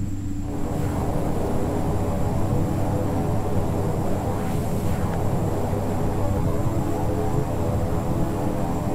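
A Beechcraft 1900D turboprop in the X-Plane flight simulator taxis with propellers in beta range to slow down, a loud, steady droning engine roar with a constant tonal hum throughout.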